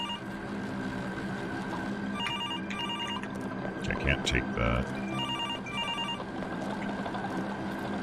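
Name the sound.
alarm ringing in the video game Absinth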